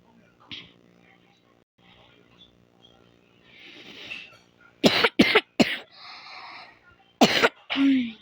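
Several sharp, loud coughs close by, two clustered bursts with quieter murmuring and breathy sounds between them.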